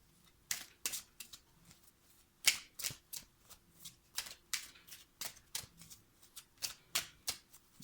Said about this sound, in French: tirez une autre carte